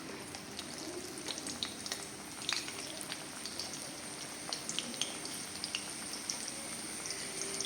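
Kerala-style tapioca fritters fry in hot oil, giving a quiet, continuous bubbling sizzle dotted with small sharp crackles and pops.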